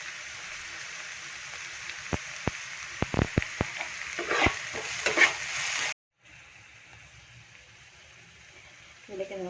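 Crushed aromatics, green chillies and curry leaves sauté in a pan for an egg dish, a soft sizzle with a burst of sharp crackles and pops, then the sound cuts off and resumes more quietly.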